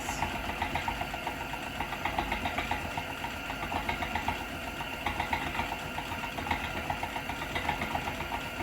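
A 1957 Sunbeam Mixmaster stand mixer running on its prepared-cake-mix setting, beating batter with a steady motor hum and rapid, even rhythmic whirring from the beaters, close and continuous with no talking.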